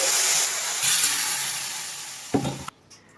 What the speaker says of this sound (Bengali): খাওয়ার ডালটা ঢেলে দিচ্ছি